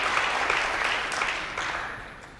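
A snooker crowd applauds Neil Robertson's 147 maximum break at the 2019 Welsh Open, with dense, sustained clapping from a large audience that slowly fades.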